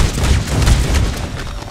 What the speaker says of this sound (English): I heard the dynamite land right on my face.